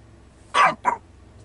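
A pet dog gives two short barks close by, with quiet room background and no talk over them.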